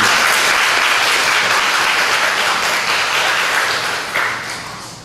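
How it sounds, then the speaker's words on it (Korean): Steady, full applause from a church congregation welcoming back a deaconess returning after leg surgery, dense clapping sustained throughout before thinning out near the end, with no voices over it. "환영의 박수 부탁드립니다"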